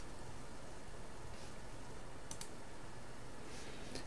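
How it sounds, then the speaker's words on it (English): A computer mouse clicks on a link on a blog page: a couple of faint, sharp clicks over steady background hiss, with no talking. "Just click it."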